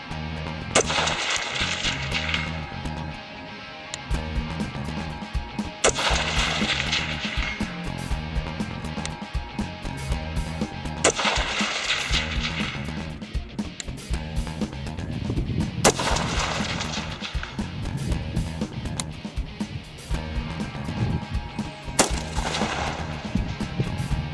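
An AR-15 competition rifle, custom-built for 3-gun matches, fires five loud, sharp shots outdoors, one about every five seconds, each followed by a brief echo.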